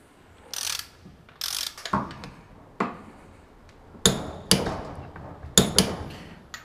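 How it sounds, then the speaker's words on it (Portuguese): Torque wrench tightening a bolt on a Yamaha 125 engine using a half-inch drive and 19 mm socket: a series of sharp, close ratcheting clicks in irregular bursts, with quiet gaps between them. "a gente usa o torquímetro maior para 85 newtons"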